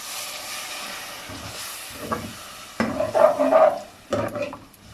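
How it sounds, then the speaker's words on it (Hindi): Water is poured into a hot pan of frying chicken curry: a quiet sizzle gives way to loud, rushing bursts of hiss and steam that swell and break off, then flare up again. "अब हम इसमें पानी शामिल करेंगे, तकरीबन 1 गिलास।"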